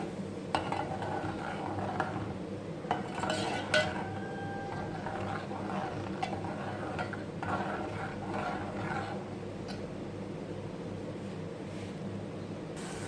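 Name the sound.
tomatoes being stirred into frying chicken curry in pan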